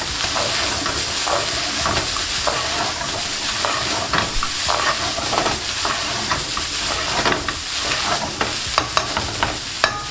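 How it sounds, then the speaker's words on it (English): Spices for nacho beef stirred and fried in a hot pan, a loud, steady sizzle with scraping stir strokes running throughout, close up and without talk. "give that a really good mix, and you want to fry this off for a few minutes"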